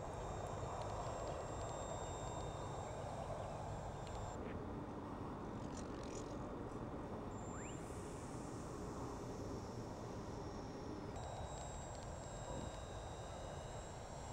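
A HobbyKing La Belle Dame three-channel RC model airplane flying at half throttle on a calm, frosty morning, its motor a steady moderate drone that swells and fades as the plane passes, with no voices.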